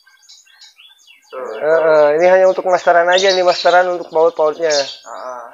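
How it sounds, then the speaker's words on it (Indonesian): A canary sings close and loud in a bird keeper's home in Palembang, its bright, rapid trills and chirps running continuously over several seconds while someone talks. "Iya ini namanya kenari nih."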